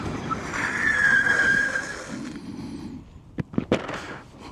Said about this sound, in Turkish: bakın debriyajsız arka frene yükleneceğim